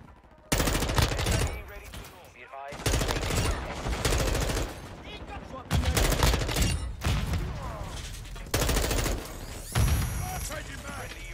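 Bursts of rapid MP7 submachine gun fire in Modern Warfare 2 multiplayer, four loud sustained volleys separated by short gaps, close and punchy with mechanical clatter.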